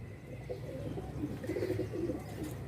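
Pigeons in a loft coo in soft, low repeated phrases, steady throughout with a constant background hum and no talking.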